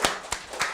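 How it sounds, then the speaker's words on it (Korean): Three separate hand claps at a birthday celebration in a church service, sharp and evenly spaced, each ringing briefly in the room. "박수."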